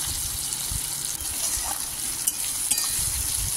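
Onion, tomato and spice masala with dried chilli, cumin and bay leaf frying in hot oil, a dense, even sizzle close up with a few soft stirring clicks.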